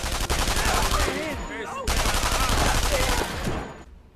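Gunfire in a World War II sniper shooter game, a loud dense burst of rapid shots with a brief break, then more sustained firing that fades near the end.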